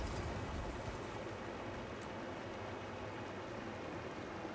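A waterfall in New Kaineng City in Guild Wars 2: End of Dragons gives a constant, full rushing roar of falling water at a low, even level, with no talk.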